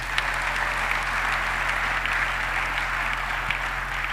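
Church congregation applauding steadily after a scripture reading, dense continuous clapping filling the room at even loudness throughout, with no speech over it.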